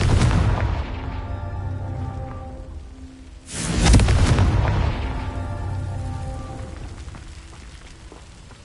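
A Confringo fire spell explodes in Hogwarts Legacy with a loud, broad blast partway through, then fades into a rumbling tail. Constant game ambience and a low drone sit underneath, and nobody speaks.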